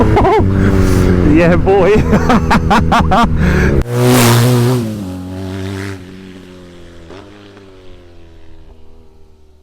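A BMW R NineT motorcycle accelerating hard from 0 to 60 on an open road, loud engine revs rising through quick gear changes, then fading to a steadier cruise with wind noise and a rider's brief exclamation.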